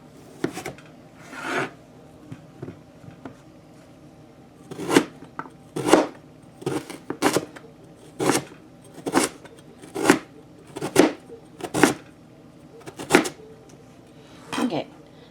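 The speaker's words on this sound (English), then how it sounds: "you can just cut this in half." A knife cuts parsnips on a cutting board, giving a run of crisp, evenly spaced chops close by, with someone speaking at times between the cuts.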